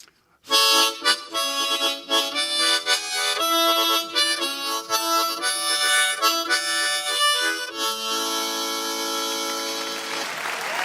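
A harmonica, notes shaped with the tongue, plays a lively run of sustained, reedy notes with quick articulations, fairly loud and close, ending on a long held chord.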